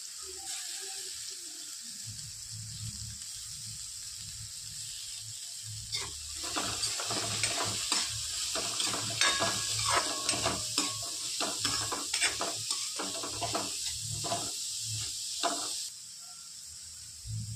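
Capsicum and cabbage stir-fry in a pan for momos, a low hiss joined midway by busy scraping and clattering of a spatula tossing the vegetables, fairly quiet and without talk.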